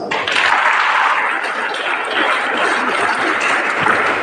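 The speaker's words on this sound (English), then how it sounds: "let us welcome him with a round of applause" Students clap to welcome a guest at a Jawahar Navodaya Vidyalaya school in Pattanamtitta, a dense, steady round of applause from a large group that stays loud throughout with a few faint voices.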